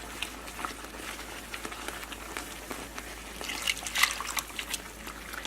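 Water being poured into a lumpy gravy in a pan, a faint, soft trickling and dribbling with small splashes and clinks, quiet and close, growing slightly busier toward the end.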